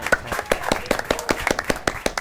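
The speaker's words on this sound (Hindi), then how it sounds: "तालियां आप लोग तीनों बजाइए।" A few people clap on a talk show, a small group of about three pairs of hands with sharp, uneven claps running steadily for a couple of seconds, fairly close and with no talk over it.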